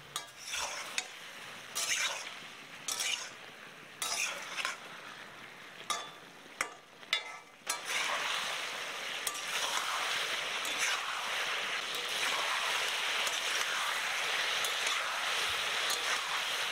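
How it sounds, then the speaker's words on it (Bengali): Peshawari chicken karahi frying over high heat in a pan, with intermittent scraping stirs early on giving way to a loud, continuous sizzle; no talking. "সেই জন্য একটু নাড়াচাড়া করে ভাজতে হচ্ছে, নাহলে নিচের দিকে পুড়ে যেতে পারে।"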